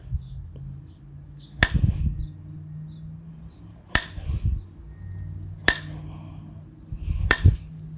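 Molded glass being struck to chip and shape it into a blade, with four sharp, bright cracks spaced a couple of seconds apart. Each crack is followed by brief scraping and handling sounds, heard close and alone.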